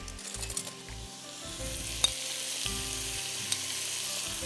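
Spices, coriander and cumin powder, and yogurt sizzle steadily in a pan for quick chicken biryani, a close, continuous frying hiss with a few soft clinks of stirring and no voices.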